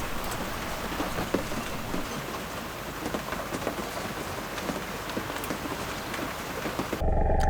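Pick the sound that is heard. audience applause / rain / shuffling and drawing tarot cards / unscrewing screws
rain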